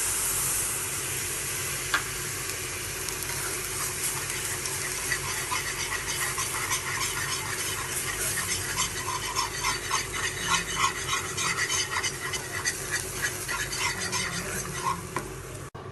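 A spoon steadily stirs white sauce of milk and ghee-cooked flour for macaroni in a pan, giving soft repeated scraping and a faint sizzle that continues throughout, close and fairly quiet.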